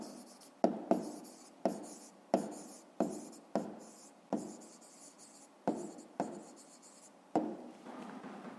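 Pen or pencil writing an answer by hand on paper during a fifth-grade math exercise, a series of close, distinct scratchy strokes with short pauses between them, no voices.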